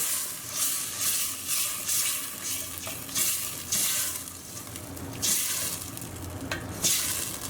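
Tomato paste and canned diced tomatoes are stirred in a hot pan for a Spanish mussel dish, a close bubbling sizzle rising in repeated bursts with each sweep of the spoon.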